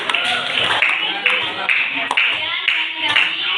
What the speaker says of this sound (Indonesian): sekali lagi beri tepuk tangan kepada rombongan